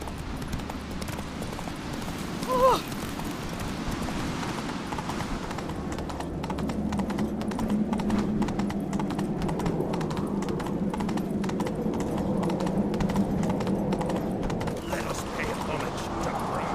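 Roach, Geralt's horse in The Witcher 3, runs with steady rhythmic hoofbeats. One sharp clack sounds early, and a low mechanical rumble and faint game ambience sit under the galloping.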